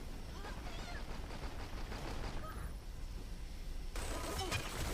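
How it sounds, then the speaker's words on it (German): Gunfire in the online shooter game Dirty Bomb: a steady stream of rapid shots and bursts, fairly distant and constant throughout, swelling slightly louder near the end. "Wo sind jetzt die Schüsse hergekommen?"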